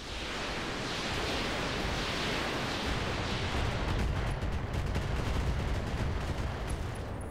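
Mech weapons in the video game RogueTech fire all at once in a dense, continuous roar of blasts and explosions, loud and sustained without pause, with no talking over it.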